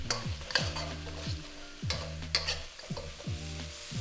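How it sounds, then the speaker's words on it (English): Chunky onion wedges stir-fry with beef in a hot pan, a steady close sizzle broken by repeated scraping and tossing strokes, no talking. "Now we're going to add in 2 onions that have been sliced into nice chunky wedges and stir fry for about 2 to 3 minutes"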